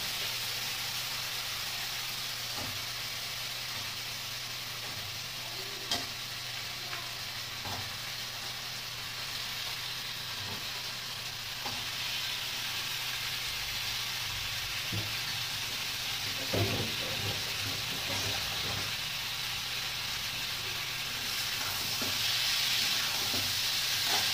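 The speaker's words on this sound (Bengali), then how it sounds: "দেখো বন্ধুরা তেল ছাড়তে শুরু করে দিয়েছে। ঠিক আছে, এবার দিয়ে দিচ্ছি মাংসটা।" Chicken meat sizzles and fries in hot oil in a pan, a steady close hiss with occasional crackles and stirring, no talking.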